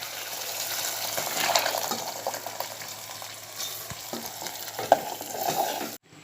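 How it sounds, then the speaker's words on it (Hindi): Ground tomato is added to frying masala in a pan: steady sizzling and frying with bubbling, stirring sounds, continuous and close, ending abruptly. "अब मैं इसमें पिसा हुआ टमाटर डालूंगी।"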